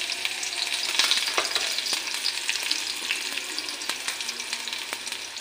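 Chopped onion hits hot oil in a pan while chira polao is being made, giving a steady, bright sizzle and crackle with a few sharp pops and stirring scrapes, close up and with no talking.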